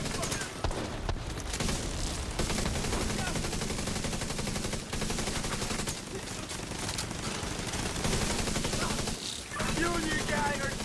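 Sustained gunfire in the video game The Division, heard as dense rapid shooting through the whole stretch with loud bursts layered over game noise.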